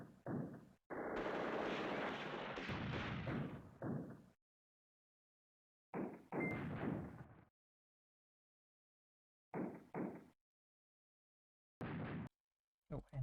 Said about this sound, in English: let's keep my artillery blasting away